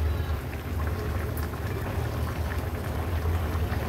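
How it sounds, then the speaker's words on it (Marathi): Fish curry (kalvan) boiling hard on high flame, a steady, dense bubbling and popping hiss with a low rumble underneath, continuous and close throughout. "छान उकळी पण आली आहे"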